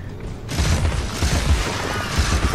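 Pepper grinder cannon firing in the video game Alice: Madness Returns, a loud mechanical burst that starts abruptly and continues as a dense run of rapid booming thuds.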